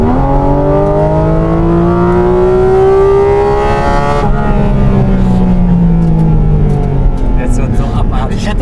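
A Porsche Cayman GT4 RS with the Manthey Racing Kit revs hard and continuously, its loud engine pitch sweeping up and falling back over several seconds, heard from close range.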